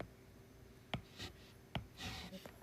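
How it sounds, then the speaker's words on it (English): A pencil eraser rubs out a handwritten digit on paper in a few quick, soft scrubbing strokes with short pauses between, quiet and close in an otherwise still room. "let me just erase that."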